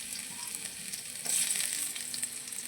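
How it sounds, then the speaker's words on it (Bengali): Chopped garlic and green chili hit hot oil in a pan, giving a steady close sizzle that surges briefly louder midway, with no voices. "এবার এই তেলের মধ্যে রসুন কুচি আর কাঁচা লঙ্কা কুচিটা দিয়ে দেবো।"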